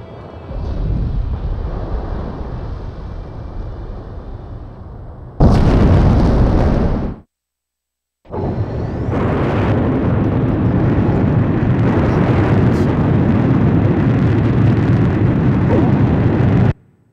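Huge explosions roll out as the aircraft carrier Rimfaxi sinks in Ace Combat 5: a loud, sustained rumbling blast, a sharper burst near 5–7 seconds, a brief silence, then continuous heavy booming and crackling to the end.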